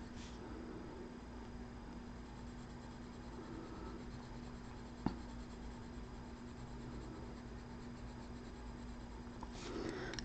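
Derwent Procolour and Polychromos coloured pencils laying down gold on paper, a steady soft scratchy hiss of strokes running continuously and quietly, with one brief click midway.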